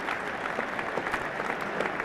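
A cricket crowd at a 1985 NatWest Cup final applauds a batsman's fifty, a sustained, fairly distant wash of clapping that holds evenly throughout.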